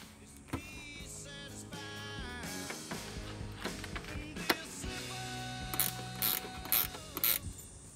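Ratchet clicking in quick bursts while bolting in an ARB Safari snorkel on a Toyota Tundra/Sequoia, with gear-like mechanical whirs and sharp metallic ticks, close and moderately loud.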